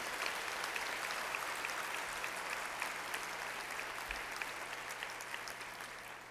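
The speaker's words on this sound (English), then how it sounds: "Give God a clap." A large church congregation of about 1,600 claps at an opening worship service, producing a dense, steady wash of applause that holds for the whole stretch at a moderate distance.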